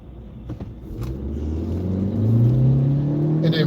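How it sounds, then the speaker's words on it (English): A car engine in city traffic rumbles and climbs steadily in pitch as it revs up, heard from close range with no talk over it. "I know you hear that motor, right?"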